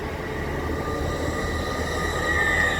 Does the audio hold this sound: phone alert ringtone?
no